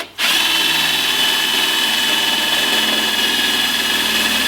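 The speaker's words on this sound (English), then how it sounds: "now I'm going to go ahead and drill them all" A power drill bores through plastic fender flare material for a Napier install, one continuous loud, close motor whine held steady for several seconds after a quick start.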